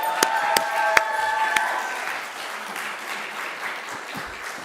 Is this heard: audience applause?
yes